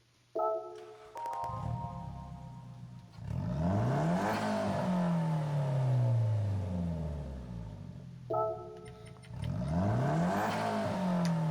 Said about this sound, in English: I'm going to click on this car, and we'll listen to the startup sound